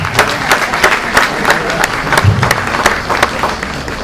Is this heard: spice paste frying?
no